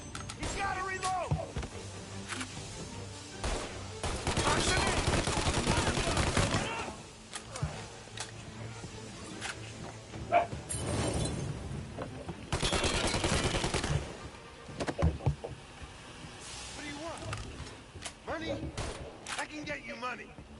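Bursts of gunfire in a shootout from the game Mafia, loud rattling volleys in several clusters with quieter gaps between, under continuous speech.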